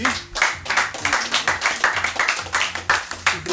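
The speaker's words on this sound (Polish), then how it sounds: "Masz brawa, brawa dla niego, tak?" A small group claps in a locker room, a short burst of brisk, uneven hand claps close by, with a few voices mixed in.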